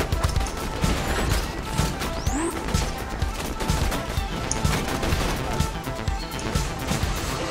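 Automated turret in Borderlands 2 deployed during a wave fight at Fink's Slaughterhouse, firing steady dense bursts of gunfire that run the whole clip amid game clatter, with talk over it.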